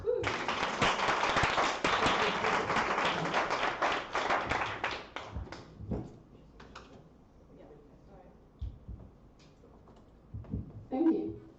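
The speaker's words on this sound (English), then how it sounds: "Round of applause." Audience applause at a tech talent forum, a dense burst of clapping that fades after about five seconds into a few scattered claps and light knocks, with brief talking near the end.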